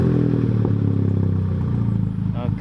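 A loud Stage 2+ Volkswagen Golf R engine with custom exhaust rumbling with a deep, throaty exhaust note, idling and revving up close.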